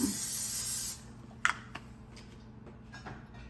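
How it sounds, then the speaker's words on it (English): A short burst of olive oil cooking spray hisses loudly for about a second, then stops, leaving quiet room tone with a few faint clicks. "olive oil spray"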